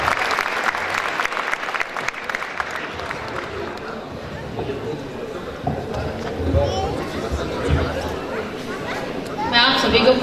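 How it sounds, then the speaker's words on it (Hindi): Audience at a Hindi comedy poetry gathering claps, a broad wash of applause that swells and fades while a presenter's voice and scattered crowd noise run through it. "एक बार जोरदार तालियां बजाइए"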